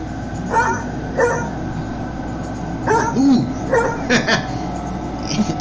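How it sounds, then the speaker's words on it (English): A dog gives a handful of separate barks and yips spread unevenly across the stretch, moderately loud over a constant low background rumble, with no speech. "After barking a few times, the dog is pushed forward."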